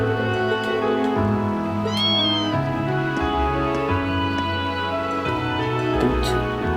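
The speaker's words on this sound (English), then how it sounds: "I didn't even see the little kitten." A little kitten in the video game Trails of Cold Steel gives a short rising meow near two seconds, clear but set within a continuous bed of in-game music.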